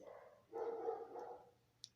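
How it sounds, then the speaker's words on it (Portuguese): A neighbor's dog barks faintly from a distance, a muffled single bark trailing off, followed by a small click. "E o cachorro da vizinha não para de latir."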